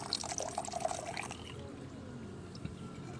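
Water drains from a basin at the equator in Kenya, a soft pouring and trickling that is louder at first and then settles into a steady faint flow, with a voice faintly underneath.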